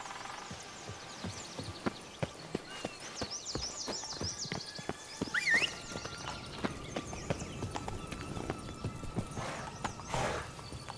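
Clip-clop of the horse Roach trotting in a video game, rhythmic hoofbeats at a steady pace with a neigh or whinny midway and faint ambient game sounds behind.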